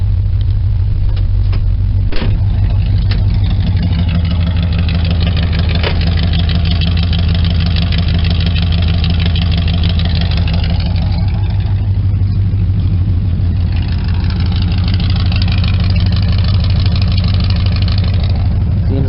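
An old car engine, a 1972 Chevy or 1968 Cadillac, idles steadily after a cold start with a loud, low, throbbing rumble throughout and a few small rattles on top, close to the microphone.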